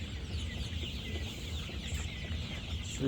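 A dense, continuous chorus of clucking from Sonali super hybrid broiler chickens, about 32 days old, on a poultry farm, steady and close with no talk.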